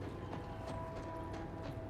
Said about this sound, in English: Judged by the sound of those footsteps.